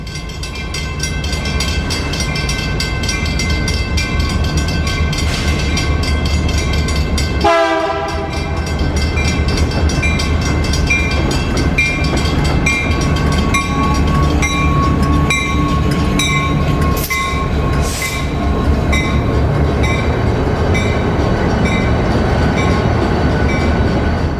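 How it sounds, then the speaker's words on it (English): A northbound intermodal freight from Los Angeles, led by Southern Pacific diesels, rumbles along the street at Jack London Square on Oakland's waterfront, loud and near, with horn blasts sounding around the middle and again later. "northbound intermodal freight from Los Angeles."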